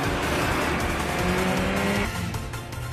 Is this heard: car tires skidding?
yes